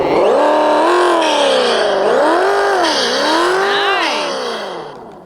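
A fast RC monster truck with dual wheels runs through soft snow, its small electric motor whining loudly and rising and falling in pitch as the throttle pulses, close to the microphone and fading slightly at the end.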